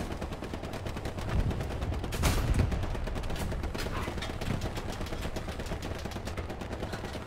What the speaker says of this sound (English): Just keep shooting the entry tree.